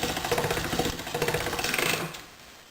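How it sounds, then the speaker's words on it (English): Pasta dough is cranked through a hand-turned pasta machine on its lowest setting, giving a steady rhythmic mechanical rattle and grind close by that stops abruptly near the end. "we're going to put it through our pasta machine here, starting on the lowest setting. And just cranking it through."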